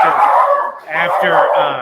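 A dog barks and yips in two close bursts, loud and near, tangled with voices talking over it.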